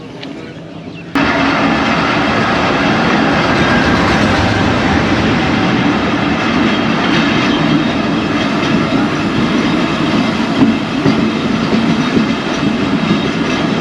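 The Karachi Express pulls away after floods and runs along the track in Sindh, a steady loud rumble with rhythmic wheel clatter that starts abruptly and continues for over twelve seconds, close by, with no talk.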